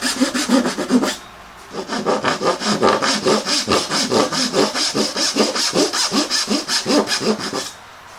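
A hand saw cutting wood for dovetails in a woodworking shop, brisk steady back-and-forth strokes close by, a brief pause after the first second, then about six seconds of rhythmic rasping before it stops.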